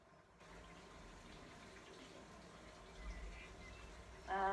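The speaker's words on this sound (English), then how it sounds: "Sorry about that water cistern here. It's right behind my camera." A water cistern runs steadily behind the camera, a constant faint hiss and trickle of flowing water throughout, swelling a little louder near the end.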